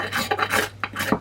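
A metal-cutting reciprocating saw blade is scraped hard against a stick of fatwood to throw sparks. About five quick, close, harsh rasping strokes come in a rapid rhythm.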